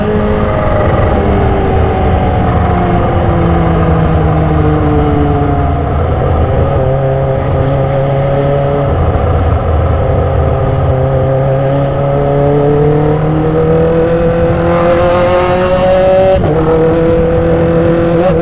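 A supercharged 2015 Kawasaki H2 motorcycle with full modifications accelerates hard, its loud engine whine climbing steadily through the gears with brief dips at shifts, continuous and close throughout.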